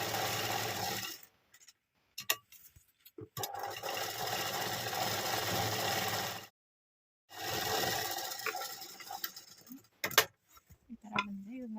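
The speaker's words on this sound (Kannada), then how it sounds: "ಈಗ ಪಕ್ಕದಲ್ಲಿ ಒಂದು ಇನ್ನೊಂದು ಸ್ಟಿಚ್ ಹಾಕ್ತೀನಿ." A sewing machine stitches the front design of a dress, running in steady bursts of a few seconds each, with pauses and soft handling noises in between and no talking.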